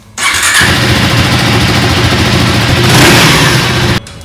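A KTM motorcycle engine cranks and fires, then settles into a loud, steady idle close by, with a slight rise in revs before cutting out near the end.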